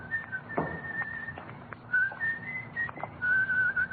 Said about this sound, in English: That's a pretty tune you're whistling